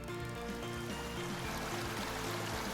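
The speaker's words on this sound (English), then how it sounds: "There's a distant sound of bubbling water." Distant bubbling water in the video game Purrfect Date, a steady, soft, continuous burble and trickle that runs unbroken through the whole stretch with no voices over it.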